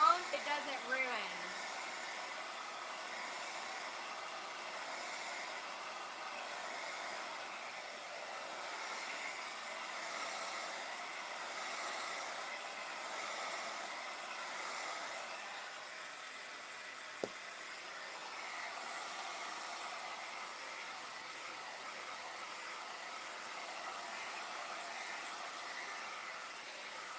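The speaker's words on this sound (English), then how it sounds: "I'm just blow drying the bag, so when I set this down, it doesn't ruin." A hair dryer blows steadily on a painted bag for a door hanger craft, a continuous loud rushing hiss that holds nearly unchanged for the whole stretch, with one faint tap partway through.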